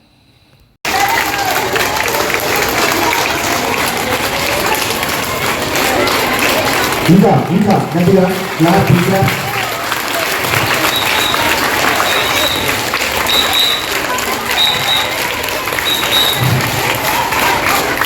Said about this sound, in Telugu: అందుకే ప్రతిరోజు కూడా సార్ అయితే యోగాలోని క్లాప్స్ ఖచ్చితంగా కొట్టిస్తారు